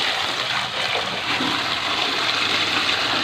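Dirty water from washing a large paper air filter being dumped out: a steady, loud rushing and splashing pour that continues throughout with no break.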